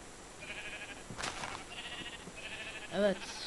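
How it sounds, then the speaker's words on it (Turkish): Sheep in a video game bleat in short repeated calls, a few steady tones with one louder wavering bleat near the end, over a quiet game background. "Evet, koyunlar."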